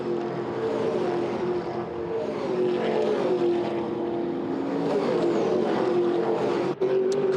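TA2 muscle cars racing at Winton Motor Raceway, a sustained engine roar that rises and falls as the cars run through the esses and past the old start-finish line, heard from a moderate distance.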